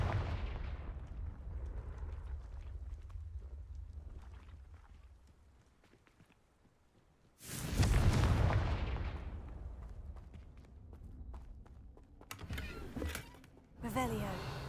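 The Confringo blasting spell erupts in the Hogwarts Legacy video game as a loud, broad burst of explosive noise, following quieter rumbling game ambience and trailed by further bangs and crackles.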